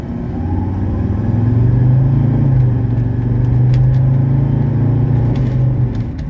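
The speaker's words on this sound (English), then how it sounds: "I'm gonna just hold up a little bit and then give it full throttle" A 1985 Mercedes 300SD accelerating at full throttle, its engine a steady low, loud drone that climbs gently and holds for several seconds, heard from inside the car with no talking.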